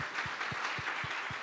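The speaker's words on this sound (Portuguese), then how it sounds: "Você pode dar uma salva de palmas para eles?" A church congregation claps to welcome visitors during a worship service, with a brief, steady beat of even claps at a quick, regular pace.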